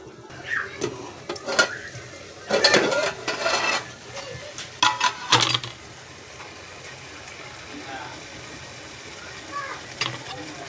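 A metal lid set down on a pan of cooking potatoes with spinach, clattering in a few sharp knocks and scrapes amid a soft background of sizzling.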